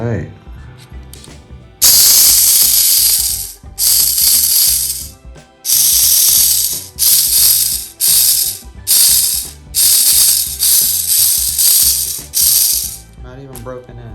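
Reinforced gears and drive shaft running in loud, close ratcheting bursts, mechanical whirring that starts and stops repeatedly in short runs of about a second each.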